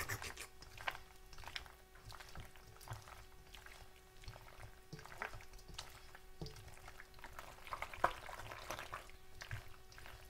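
A spoon stirs pasta shells through a thick cheese sauce in a pan, giving repeated wet, sloshing scrapes and squelches at a steady, vigorous pace, faint and close.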